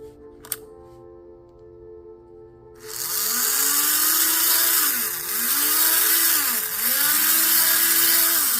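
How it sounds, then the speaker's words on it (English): A Tomy Plarail toy train's small electric motor whirs up after a quiet start, buzzing steadily close by with its pitch swooping and wavering repeatedly. "Okay, the motor sounds good."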